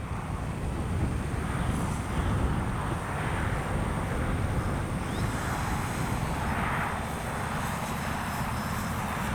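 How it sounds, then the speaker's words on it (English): An H-King Flybeam 2 RC plane flies at night on a windy evening, its electric motor a steady, fairly quiet drone. A constant rush of wind buffets the microphone throughout. "Boy, it's such a quiet plane."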